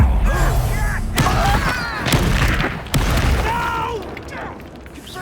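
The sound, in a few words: fire spell explosion in the Hogwarts Legacy video game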